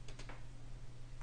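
Computer mouse clicks come as a few quick, faint ticks close together at the start, then a last tick at the end, over a low, steady hum in a quiet room.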